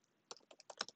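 Quiet burst of typing on a computer keyboard while entering a console command, about six quick key taps in under a second, close but faint.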